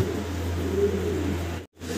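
German Beauty Homer and Maltese pigeons coo close by, a soft, low, steady rumbling coo that cuts off briefly near the end.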